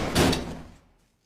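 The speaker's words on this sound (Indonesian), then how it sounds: "Dan setelah ia membuka pintu" A single door sliding open with a quick rolling whoosh and rattle that fades away into silence.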